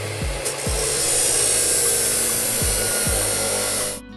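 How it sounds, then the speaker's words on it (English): A tool saws the top off a plastic container in a steady, harsh rasp, with a few short scraping strokes at the start and near the end, close up. "I cut off the top part to create more room for planting."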